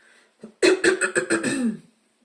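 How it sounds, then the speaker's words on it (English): One person coughs in a quick burst of several harsh, rasping coughs, close to the microphone, then quiet. "Sorry guys about my coughing"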